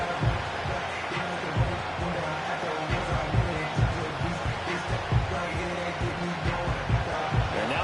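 A stadium crowd in a football video game roars continuously and loudly throughout, with swelling cheers beneath ongoing commentary.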